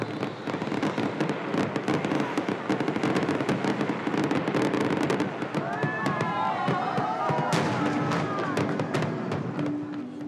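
Fireworks at Pattaya in Thailand: dense, rapid crackling pops and bangs rolling continuously, with whistling rockets rising partway through and a crowd murmuring and voices talking underneath.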